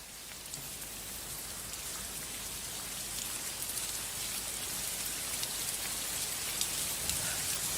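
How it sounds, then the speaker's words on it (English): Steady rain falls in a dense, even hiss with scattered drops pattering on a surface, moderately quiet and unbroken throughout. "I put rain and thunder in the beginning to kind of make it feel like it's a bit dark and gloomy"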